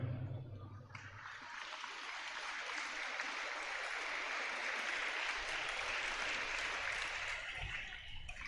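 An audience at a school opening event in an open-air auditorium breaks into applause, a dense, even wash of clapping that swells and holds for several seconds, slightly distant.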